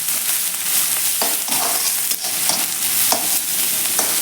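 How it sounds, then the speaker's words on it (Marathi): Onions sizzle loudly in hot oil in a kadai over medium heat while a utensil scrapes and stirs them in a steady rhythm of strokes. "कांदा आपल्याला तांबूस रंगावरती छान असा परतून घ्यायचा आहे"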